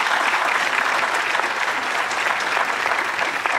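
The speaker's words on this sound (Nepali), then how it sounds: "उहाँहरूको लागि जोरदार ताली जाओस् प्लिज" An audience at a poetry competition show breaks into loud, sustained applause, a dense and even wash of many clapping hands with no talk over it.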